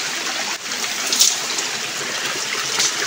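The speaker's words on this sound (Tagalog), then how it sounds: "Ganito lang yung pagbanlas dito sa sapa sa bundok" A mountain stream rushes steadily during gold sluicing, a continuous broadband wash of flowing water, close and fairly loud, with small splashes breaking through now and then.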